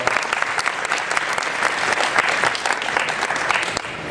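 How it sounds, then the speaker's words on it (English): Audience applause at an evening town hall meeting, honoring students who led the Pledge of Allegiance: dense, steady clapping from a room full of people, holding a fairly even level throughout without any talk over it. "Let's give them a round of applause"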